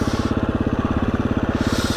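A motorcycle engine revs hard and steady for a wheelie front lift, a loud close throbbing pulse with a rapid even beat that holds through the whole stretch.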